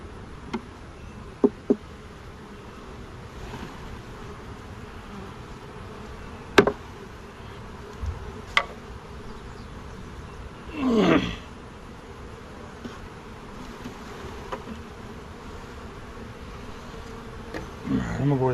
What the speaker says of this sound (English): Shake those bees off in there.